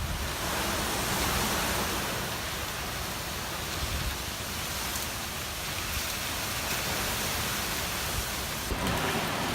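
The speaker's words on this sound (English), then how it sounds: "there are sheets of rain just coming down, flying by" Heavy rain from Hurricane Irma pours down in a dense, unbroken roar, with gusting wind blended in, steady and loud throughout.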